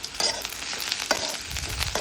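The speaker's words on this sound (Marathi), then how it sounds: "तो कांदा पूर्ण लाल होतोपर्यंत फ्राय करून घ्यायचा" Onion frying in a pan with garlic and a green chili, a steady close sizzle with faint scraping stirs through the brief moment, no voices.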